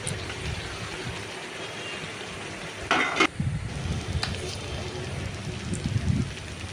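Pumpkin and pointed gourd cook in a pan with oil, giving a steady close sizzle with a brief clatter of stirring partway through and a brighter crackle near the end.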